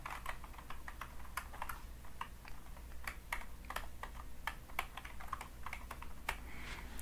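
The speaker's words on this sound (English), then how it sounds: "So you get the nice word, or the nice typing sounds on the keyboard." Quick, soft tapping on a computer keyboard, typed up close in a quiet room for a calm ASMR setting, with an uneven rhythm of crisp little clicks over a faint low hum.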